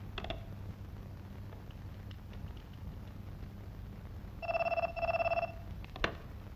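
Telephone ringing while calling a commissioner, two short bursts of electronic ringing near the end over a quiet room hum, with a few faint clicks before.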